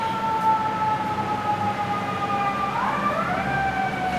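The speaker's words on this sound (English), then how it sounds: "You hear the siren? That's the sound of the police." A police siren wails in the distance with steady electronic tones that bend and shift pitch partway through, sounding continuously over low background rumble without any voices.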